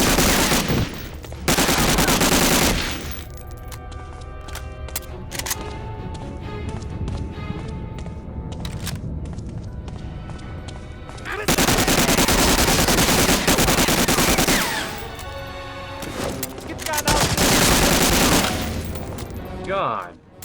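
Gunfire from the video game Medal of Honor Warchest comes in loud, dense bursts of rapid automatic shots with booming blasts. The fire alternates with calmer stretches of game sound, and a voice talks faintly underneath.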